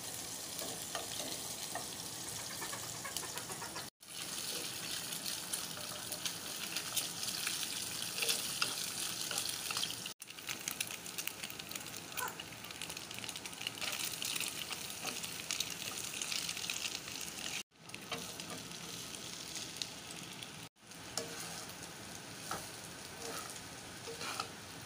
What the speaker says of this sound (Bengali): কালকের ভাত আছে, এখানে ভেজে নেব।